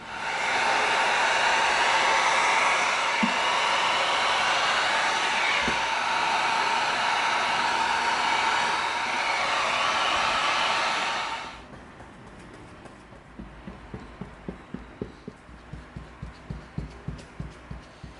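Loud, even blowing hiss of a heat gun sealing 6mm EVA foam strips runs for about eleven seconds, then cuts off, leaving faint rhythmic ticking.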